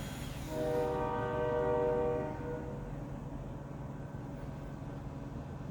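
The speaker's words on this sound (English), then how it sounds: "There's the train again." A train passes some distance off and sounds its horn once in a sustained, chord-like blast lasting a couple of seconds, then fades beneath a steady low rumble of rail traffic.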